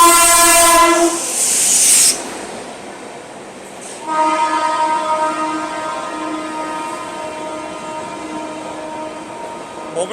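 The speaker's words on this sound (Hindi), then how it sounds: "ये लो भाई, एक और राजधानी का ओवरटेक।" A Bhubaneswar Tejas Rajdhani Express overtakes on the line with a loud, sustained horn blast, a brief pause, then a second long horn over the steady rumble of the passing train.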